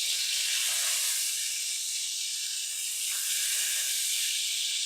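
A thin, crispy burger sizzles in a hot pan just after being flipped, a steady bright hiss without a break and no talking.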